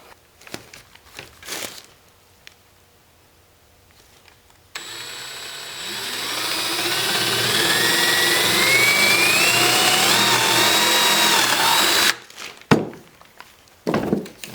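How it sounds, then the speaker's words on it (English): A power drill whirs up loudly and runs for several seconds as it drives screws into a wooden porch swing built from a crib mattress frame, bracketed by clunks and handling noises. "then I'll get these drilled in and attached"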